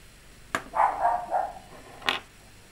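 A dog nearby lets out a few short barks and yips, a sharp onset, a brief cluster of whining barks, then one more sharp bark, with no talking.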